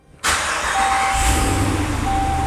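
Ram 2500 pickup's 6.4L Hemi V8 fresh after an oil change, starting abruptly then idling steadily close by, with a thin high tone running through the idle.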